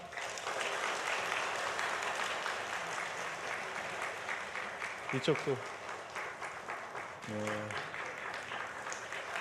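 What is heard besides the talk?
applause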